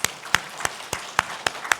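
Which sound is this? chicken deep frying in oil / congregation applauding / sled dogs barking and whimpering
congregation applauding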